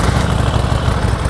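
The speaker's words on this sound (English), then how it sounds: "It's got the factory exhaust, so it runs pretty quiet." A used Harley Davidson Sportster 1200 motorcycle with its factory exhaust idles with a low, steady throbbing rumble, close by and fairly quiet, with no talk.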